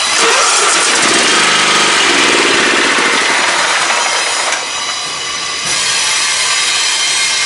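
A Craftsman LT 1000 riding lawn mower engine with a new exhaust cranks over and catches, then runs loud and rough up close, its roar dipping briefly before surging back.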